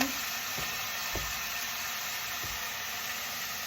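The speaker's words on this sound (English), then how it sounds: "so we're just going to slip that into the skillet here with our onions and peppers." Cream cheese slides into a skillet of onions and peppers and keeps up a faint, steady sizzle. A few soft clicks or scrapes sound close by, with no talking.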